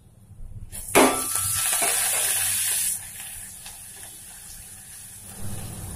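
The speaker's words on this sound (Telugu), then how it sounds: "ఇప్పుడు పోపు వేగిపోయింది" Tempering spices with curry leaves, coriander and green chilli sizzle in hot oil, a sudden loud hiss that bursts up then settles into a softer steady crackle, heard close with no talking.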